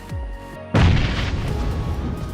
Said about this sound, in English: throw a grenade only if you think there would be an enemy